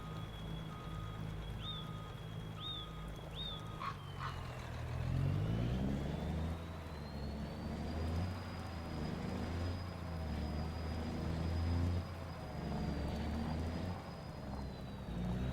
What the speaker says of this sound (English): the truck's going to swing right out into the field